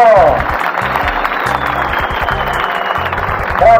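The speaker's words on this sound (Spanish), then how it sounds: "Aplauso enorme, ahora sí, las fotos" Crowd applause at a rally award ceremony, continuous clapping heard alongside loud background music with a steady beat, fairly close and busy throughout.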